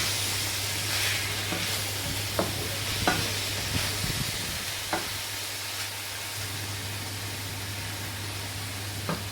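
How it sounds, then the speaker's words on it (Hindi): Minced meat being stir-fried in butter for Turkish Ali Nazik kebab, giving a soft continuous sizzle over a low steady hum, with a few sharp scraping knocks of the spatula. "अच्छे से इसको 1 से 2 मिनट भूनेंगे हम।"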